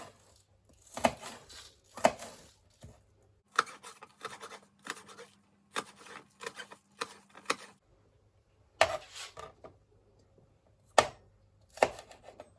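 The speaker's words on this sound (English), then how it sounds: "Now I'm going to chop my spring onions." Spring onions chopped with a knife on a board: bursts of quick, crisp taps in short runs separated by pauses, close and clear in a quiet kitchen.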